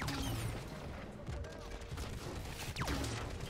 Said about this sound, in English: We just gotta fire everything we've got.